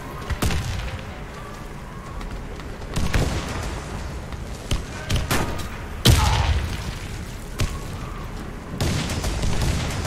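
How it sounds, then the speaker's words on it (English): Grenade blasts and bursts of gunfire in a multiplayer shooter video game crack out in sharp, loud, irregular hits over a rumbling background, with no talk over them. "Grenade out!"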